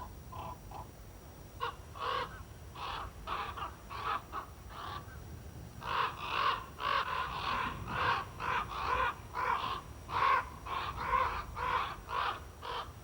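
Common raven calling near its nest in Skaftafell, Iceland, a long series of hoarse croaking caws in irregular bursts, moderately close against a low wind-like background.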